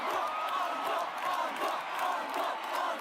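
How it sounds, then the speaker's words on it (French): A concert crowd at curtain time chanting for an encore: a dense, steady roar of many voices with rhythmic swells repeating about every second, heard from within the hall and holding at an even level throughout. "Il est assez courant lors du rideau d'un spectacle d'entendre une foule disant"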